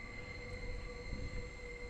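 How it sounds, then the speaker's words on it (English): Japanese train rolling through a small village, a steady rumble with sustained high metallic tones like wheel squeal or a distant whistle, continuous and fairly constant in level throughout, with no speech. "Now I really feel like I'm hearing some train sounds. I can hear the whistle and the screech."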